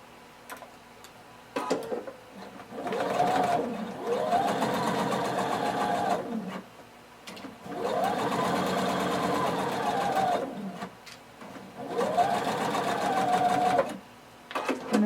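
A sewing machine stitches a dart on shorts or pants in three steady, whirring runs of a few seconds each, separated by short quiet gaps filled with faint handling noises.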